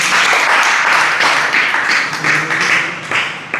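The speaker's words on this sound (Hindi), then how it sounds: "ताली बजाओ" Audience applause during a spiritual discourse by Acharya Shri Samay Sagar ji: steady, dense clapping from many hands, close and loud, lasting the full few seconds without a break.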